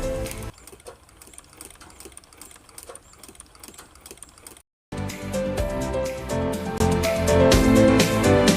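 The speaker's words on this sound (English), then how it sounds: "Next, we'll sew all around the edges of the cloth with a distance of half a centimeter from the" A sewing machine stitches around the edges of old clothing cloth, a steady mechanical whir that stops briefly midway and then resumes louder and busier to the end.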